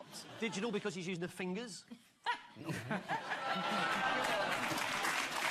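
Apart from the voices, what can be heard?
studio audience groaning and clapping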